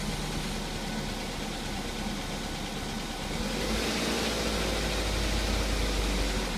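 A Ford Focus engine runs steadily while the car is stuck, giving a continuous low rumble with broadband noise that swells slightly partway through, as if revving under light throttle, with no voices.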